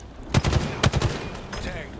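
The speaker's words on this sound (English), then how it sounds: "Taking fire." Gunfire in Halo Infinite: two quick bursts of rapid automatic shots close by, followed by fainter scattered firing, with brief talk over it.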